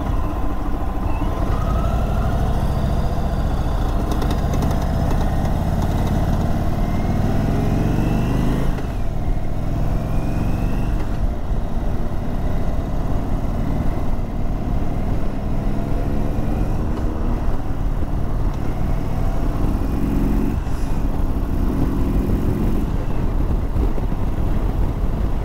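A 2022 Indian Super Chief ABS motorcycle with a quiet stock exhaust runs steadily up close for the whole stretch, its engine rumble rising and falling gently with changes in revs.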